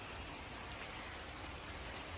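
Rain falls steadily on a backyard garden, a soft, even hiss of drops that is faint and continuous with no voices over it.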